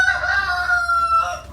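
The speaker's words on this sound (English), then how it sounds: "Time to put the chickens up, they're crowing." Rooster crowing on an Appalachian homestead at dusk, one drawn-out cock-a-doodle-doo close and clear, alone without talk.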